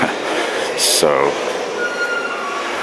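A New York City subway G train moves through a station, a loud steady rail rumble with a brief high wheel squeal and a short screech, while a voice speaks briefly.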